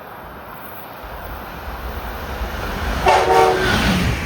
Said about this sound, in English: I'm going to miss that hybrid horn when it's gone.